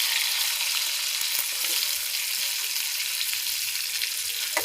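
Pangas fish pieces frying crisp in oil in a pan, a steady, even hiss of sizzling that holds unchanged throughout with no voices.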